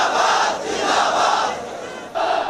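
A huge crowd of protesters at a rally for Palestine chants in loud, rhythmic unison, their massed voices rising and falling in repeated waves.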